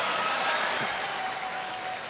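An audience at a mushaira in Aurangabad claps steadily, a soft, continuous patter of applause from a crowd that holds at an even level throughout, with a faint tonal hum in the background.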